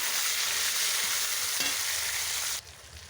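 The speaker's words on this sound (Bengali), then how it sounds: "একে একে সব মশলা কষিয়ে নিয়েছি।" Spices sizzle and fry steadily in a hot pan while being stirred for a home-cooked Bengali dish, a dense continuous crackle that drops suddenly quieter near the end.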